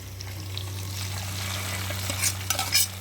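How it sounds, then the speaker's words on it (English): Fried onions poured into almost-cooked dal for dhal pitta, a steady close sizzle and bubbling with a louder burst of spattering near the end. "So now I will pour my onions into the dal."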